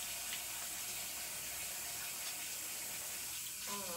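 A bathroom tap runs in a steady, close, broadband stream for several seconds while hands are washed under it, with a brief clatter near the end.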